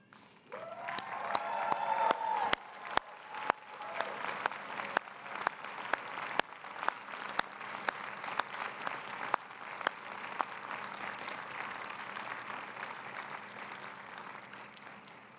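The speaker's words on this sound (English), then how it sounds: "join me in showing appreciation for your families and friends with a hearty round of applause" A large crowd at a university commencement ceremony breaks into sustained applause with some cheering, a dense, reverberant wash of clapping punctuated by sharp nearby claps, rising then gradually thinning out.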